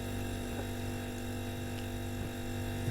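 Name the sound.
refrigerator humming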